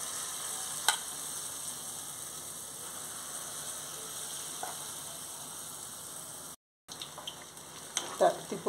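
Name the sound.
mango sweet bondas frying in oil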